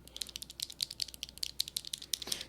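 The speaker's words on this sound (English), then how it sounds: "the keyboard switches for my keyboard build" Glorious Panda mechanical keyboard switches from a keyboard build tap out a quick, steady string of soft, crisp clicks in a quiet ASMR setting. No voice.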